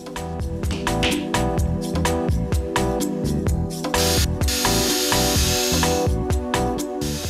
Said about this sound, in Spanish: Luego vamos a perforar, poner los tarugos y finalmente atornillar.